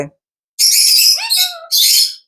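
A talking parrot (parakeet) gives a burst of bright, shrill calls in three close chirping phrases, near and loud, with no talk over it.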